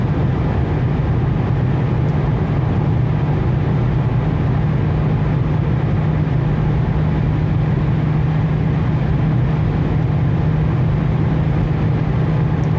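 A 2004 Toyota Avensis automatic running on LPG and gasoline accelerates at full throttle, heard from inside as a loud, steady engine drone mixed with road and wind roar that holds without a break and with no talking.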